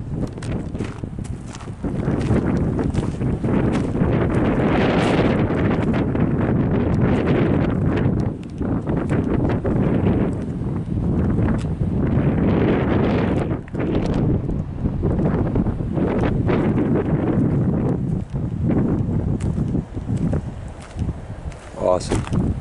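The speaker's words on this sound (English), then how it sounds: "Here's the wind." Coastal wind buffeting the microphone in a loud, continuous low rumble that swells and gusts throughout, with someone talking over it at times.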